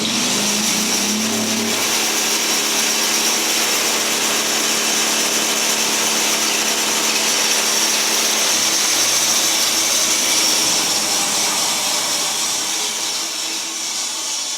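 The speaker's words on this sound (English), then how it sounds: "ready to start sawing some lumber" A sawmill running steadily with a continuous loud mechanical whine and roar, with no voices over it.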